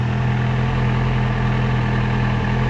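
A motorcycle engine idling to warm the oil before an oil change on a bike with about 12,967 miles, a loud, steady, close hum with no change in pitch.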